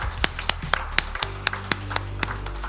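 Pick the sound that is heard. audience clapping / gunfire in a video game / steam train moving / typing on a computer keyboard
audience clapping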